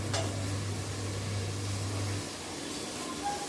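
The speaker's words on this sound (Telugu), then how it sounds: "ఇలాగా మంచిగా వేగితే ఎర్రగా వేగాలి ఆనియన్స్." Onions fry in oil until reddish for a brinjal and dried fish curry, giving a steady, continuous sizzling hiss that stays even throughout with no voices.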